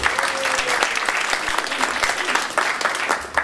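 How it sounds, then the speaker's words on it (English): An audience claps steadily for a few seconds, dense and fairly loud, with a faint voice underneath. "So big round of applause for Ron Unger."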